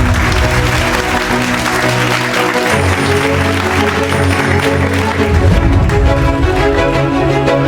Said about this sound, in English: once again, big round of applause for Mr. Vikram Nair